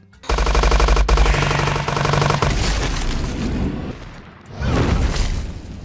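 Gunfire from a film scene in Tremors 5 rattles out in a loud, rapid automatic burst, followed by rumbling impacts and a heavy boom near the end, with no voices over it.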